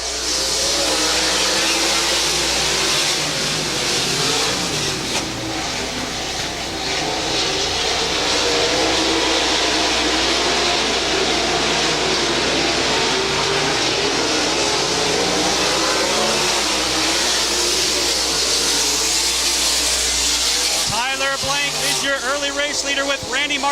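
Street sprint cars race around a track at Double X Hobby's, their engines a loud, continuous roar that swells as the pack passes, with an announcer talking over the noise throughout.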